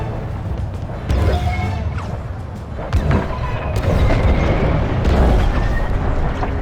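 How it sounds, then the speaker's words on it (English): Frigate exploding in the Star Wars Squadrons space-combat game: a run of loud, deep booms and crashing blasts rolling over several seconds, with heavy rumble between bursts and no talk. "The frigate is about to explode."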